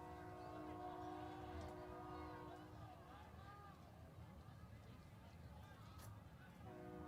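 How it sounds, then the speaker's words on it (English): A train passing through town during a high school playoff football game, its horn sounding in sustained tonal blasts over a rumbling background, fairly distant and under crowd noise. "there's a train coming through town"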